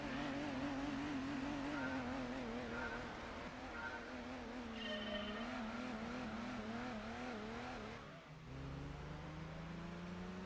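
A 160-horsepower race car in a racing video game, Gran Turismo style, on the Clubman Stage Route 5 track, its engine droning and rising and falling through gear changes, with tire squeal and a sharp shift near the end.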